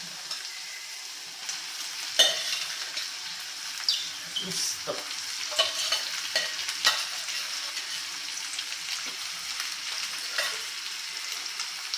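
Cooked rice is stir-fried in a spiced tempering with a soft continuous sizzle, while a spatula scrapes and taps the pan in irregular strokes, close by, with no one speaking.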